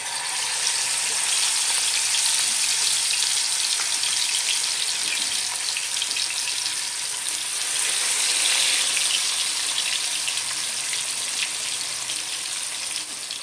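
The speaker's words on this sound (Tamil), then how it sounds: "இப்போ பாருங்கள், மீனை பொரிக்கிறதுக்கு எடுத்து போட்டுக்கிறேன்." Steady, loud sizzling and crackling of fish frying in hot oil, a continuous bubbling hiss throughout with no talking.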